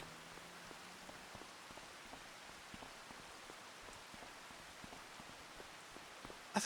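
Steady, faint rainfall patters continuously across a farm in Farming Simulator 25, with scattered soft drop ticks and no talk.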